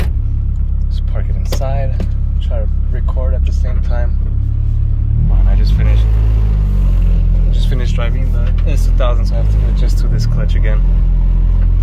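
A Honda Integra engine with an S2000 clutch idles and rumbles low, dipping and lugging as if nearly stalling, heard from inside the car beneath steady talk.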